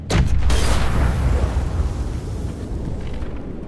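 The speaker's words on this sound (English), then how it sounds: "Shit, the bomb." A bomb blast in The Walking Dead video game: one sudden loud boom followed by a long, heavy rumbling roar that slowly fades over several seconds.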